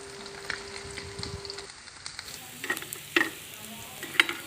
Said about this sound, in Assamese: মাছখিনি ফ্ৰাই হৈ গৈছে দেখিছেই।